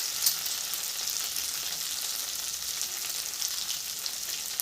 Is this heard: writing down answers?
no